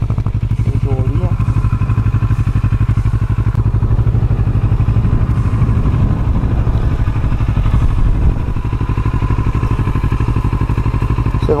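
A modified Kawasaki R6 sport motorcycle with an Akrapovic exhaust runs close up, its engine a loud continuous rumble with slight revving and clattery texture throughout.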